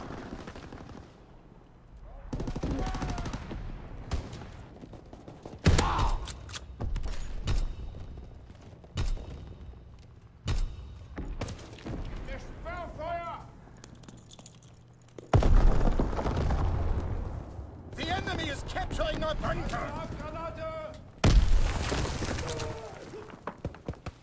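Shotgun blasts and other weapons fire ring out in a video game match, arriving in loud irregular bursts separated by quieter stretches, with a player's voice talking over parts of the action.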